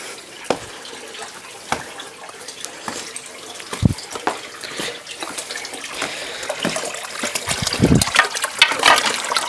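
Water flows and trickles nearby in a forest setting, a soft steady splashing with scattered drips and small gurgles that grow busier toward the end.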